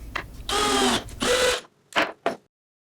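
A brass E-Z LOK threaded insert being driven with a jig into a hole in an MDF tabletop, two loud whirring power-driver bursts followed by two short softer ones, close up.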